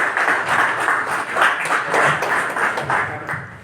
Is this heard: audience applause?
yes